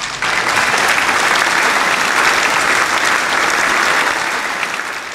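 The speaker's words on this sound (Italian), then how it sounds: "Bellissimo, grazie, applauso a Zazzaroni." Studio audience applause on an Italian football talk show: a dense, steady wash of many hands clapping close and loud for about five seconds, tapering slightly at the end, with no voices over it.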